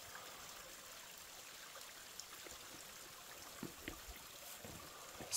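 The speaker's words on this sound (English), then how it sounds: "This is the highest waterfall in Missouri." Mina Sauk Falls, the highest waterfall in Missouri, trickling down rock on a mountainside: a steady, faint wash of running water, heard from a distance with a few soft splashes and outdoor ambience, and no talking.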